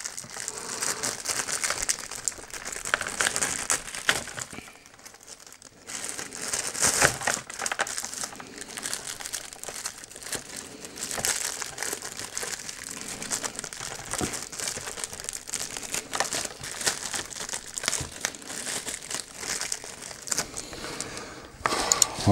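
Packaging for a beyerdynamic TEAM TYGR set, a TYGR 300 R headset and FOX USB microphone, crinkles and crackles loudly and almost without pause as it is pulled open, with short quieter gaps and no talking.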